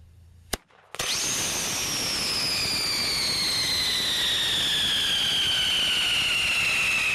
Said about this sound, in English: The whistling sound associated with fireworks comes from each layer of chemicals burning one at a time